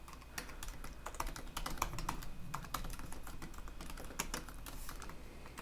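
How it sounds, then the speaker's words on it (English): Steady, close typing on a computer keyboard as Ruby on Rails code is entered, a continuous run of quick key clicks with no talking. "I'll just type it out, but it's the same as what was in index."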